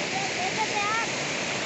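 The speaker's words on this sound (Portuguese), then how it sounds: "Estou aqui do lado da cachoeira do Rio Lavrinha" A waterfall on the Lavrinhas river near Itaberá roars steadily in a dense, constant rush, close and loud, with someone speaking over it.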